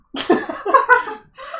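A single sneeze bursts out from a person amid playful laughter and chatter, followed by a short trailing vocal sound.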